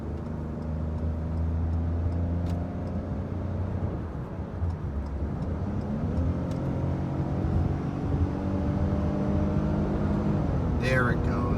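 The 3-cylinder EcoBoost engine of a 2021 Ford Bronco Sport Big Bend pulls hard up a highway on-ramp, a loud droning cabin hum whose pitch climbs through the gears over constant road and wind roar.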